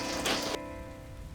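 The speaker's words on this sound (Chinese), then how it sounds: "下雨了你没带伞哦。" Artificial rain from a water sprinkler truck on a film set pours down as a loud, dense hiss that drops off abruptly partway through, leaving a quieter background.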